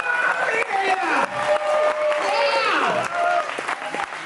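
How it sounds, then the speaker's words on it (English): Audience applause and cheering for the host open a horror make-up show at Universal Studios Orlando, with clapping mixed under loud whoops and voices in a crowded theater. "how about a nice round of applause for the host of today's show, Alex Ross."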